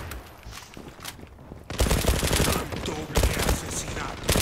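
Rapid automatic fire from an MPT-76 rifle in the video game Zula, a sustained loud burst of gunshots after a quieter opening with scattered shots, with fire and impacts continuing to the end.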